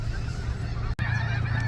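A flock of migrating snow geese honking overhead, a dense continuous chorus of overlapping calls with a brief break partway, fairly loud and with no talking.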